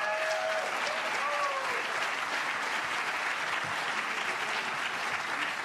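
Sustained audience applause at a radio-drama award ceremony honoring the best voice actor, a steady even clapping wash throughout with a brief whoop or whistle early on.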